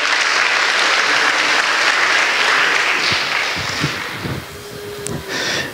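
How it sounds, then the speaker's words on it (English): A church congregation gives a loud, sustained round of applause at a Sunday service, dense clapping that slowly thins out over several seconds, with a few louder claps and scattered voices near the end. "We'll just give them a massive round of applause."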